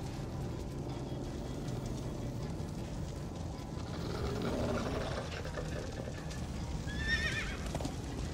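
Horses in the video game Minecraft: Story Mode whinny in short, rising cries over a steady background bed, with a clip-clop of hooves running through the scene.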